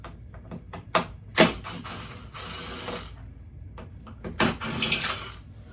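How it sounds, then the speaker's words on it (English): Torx T30 bolts being worked loose from a Jeep driver door with a ratchet, giving a series of close, sharp mechanical clicks and scrapes, some louder bursts of rattling between shorter ticks, no talking. "get these two Torx bits off, move this out of the way, and that one will also be a T30."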